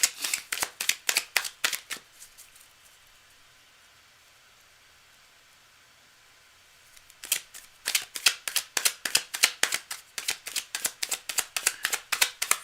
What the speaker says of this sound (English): Let me just shuffle it up quickly for you.